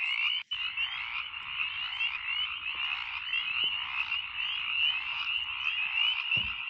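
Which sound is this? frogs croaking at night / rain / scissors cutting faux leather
frogs croaking at night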